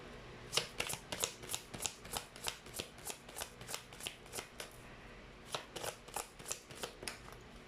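A deck of tarot cards is shuffled again and again, each riffle a short, crisp flutter in a quick, even rhythm of about twenty bursts, close and fairly quiet, with no talking.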